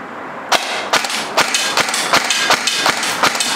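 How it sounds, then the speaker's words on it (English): Airsoft gun test-firing after a magazine feeding fix, about eight sharp, evenly spaced shots against a constant mechanical whir, close and fairly loud. "So he's gonna be doing some test fires at the silver thing."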